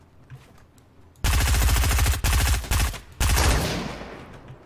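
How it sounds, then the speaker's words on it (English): Automatic gunfire in Fortnite, three loud, dense bursts of rapid shots starting abruptly after a quieter lead-in, separated by brief gaps, close and dominant with no talk over them. "someone shot"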